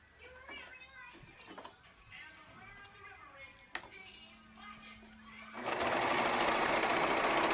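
Near the end a serger sewing machine stitches a dress seam with a loud, steady, close mechanical whir. Before it starts, a person talks over quiet handling noises and faint children's voices in the background.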